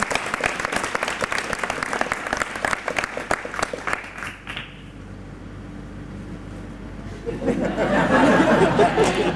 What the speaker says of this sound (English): we'll please give a huge round of applause for our two brave aviators.